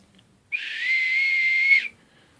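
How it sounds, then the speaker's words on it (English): A military-style survival whistle given by a Canadian Special Forces friend sounds one sustained, piercing shrill blast lasting over a second, starting abruptly and cutting off cleanly against a quiet background. "this is a whistle."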